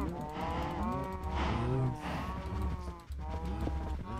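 A Minecraft cow moos close by in a long, wavering low call, with faint game noise underneath.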